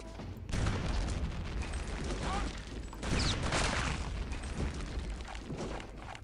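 Rockets fire and burst in the Return to Castle Wolfenstein shooter game, with two loud blasts about three seconds apart, each trailing into a dense, roaring rumble, backed by steady mechanical game noise.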